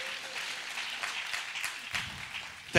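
A church congregation breaks into brief applause, a soft scattered patter of hands with a few louder claps near the end, heard at a distance in a reverberant room.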